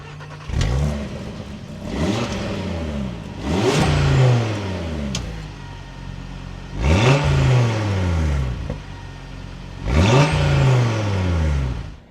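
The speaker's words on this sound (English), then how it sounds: "let's start this up now and take a listen to how it sounds" A 2026 Audi RS3 engine starts and revs hard several times, each loud blip rising and falling in pitch with pauses of idle in between, close and alone with no talk.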